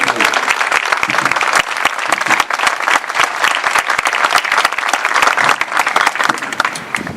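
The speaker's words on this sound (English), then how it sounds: "Can we get a round of applause for those 19 people?" An outdoor crowd at an Italian cultural club's historical marker dedication claps loudly and steadily, dense continuous applause with no voices over it.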